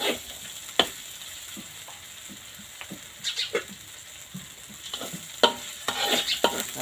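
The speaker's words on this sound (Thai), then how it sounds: "ผัดพริกแกงก่อนจ้า" Curry paste with lemongrass and fingerroot sizzling in a pan for pumpkin and pork curry, with a low steady hiss and intermittent scraping stirs; close and fairly quiet, without talk.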